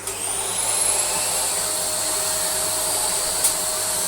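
A Dyson DC46 Allergy Parquet vacuum cleaner runs steadily throughout, loud and close, with a high motor whine and airy rush that holds constant, a brief click near the end, and no talk.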